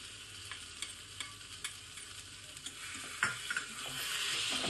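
Chopped eggplant being stirred in a pan with salt and scrambled egg, soft scraping strokes of a spatula over a low, gentle sizzle that grows slightly louder toward the end.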